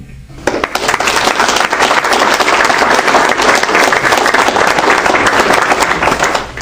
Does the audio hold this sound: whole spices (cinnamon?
no